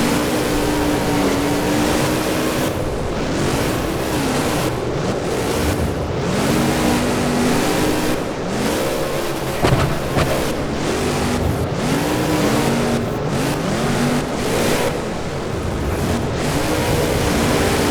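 Monster truck engines in a BeamNG racing game roar and rise and fall in pitch as the trucks race around a track, loud and continuous with repeated revving sweeps.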